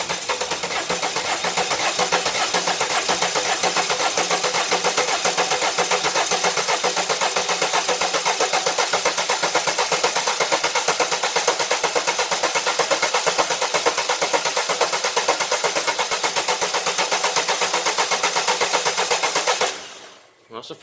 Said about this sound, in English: Bit more cranking and we'll go again.